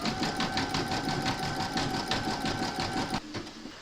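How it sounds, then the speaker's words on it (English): An embroidery machine runs a fast, steady satin stitch around the edge of a koala appliqué, its rapid needle clatter continuous and close for about three seconds before stopping abruptly into quieter machine hum. "stitch round number 3, and that's going to do the satin stitching around the edge here"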